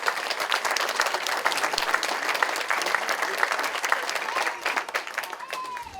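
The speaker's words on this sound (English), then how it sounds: "So a round of applause for our elected officials" A crowd at an outdoor public event applauds its elected city officials, giving a dense, sustained round of clapping with sharp individual claps poking through. It thins slightly toward the end as a voice starts to come in.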